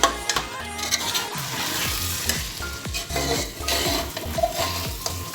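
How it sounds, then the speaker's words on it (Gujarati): Ingredients for khichdi being stirred and mixed in a hot frying pan, with a spoon scraping repeatedly against the metal over a steady sizzle, close and fairly loud, with no talking. "ત્રણેય વસ્તુને આપણે સરસથી મિક્સ કરી લઈએ પહેલા."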